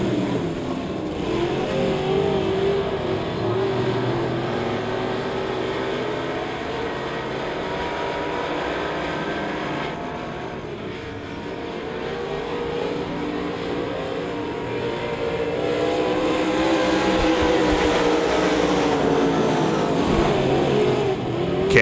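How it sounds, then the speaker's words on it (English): Race cars in a speedway heat race roar around the track, producing a dense, continuous engine drone that rises and falls as the pack passes, loud and unbroken. "Back underway here in heat race number two."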